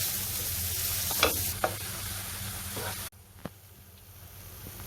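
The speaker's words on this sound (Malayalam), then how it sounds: "അതിന് നല്ലോണം ഇളക്കി യോജിപ്പിക്കുക." Jaggery syrup being stirred into a coconut filling in a pan, with a steady soft sizzle and a few scraping strokes of a spoon, with no one talking.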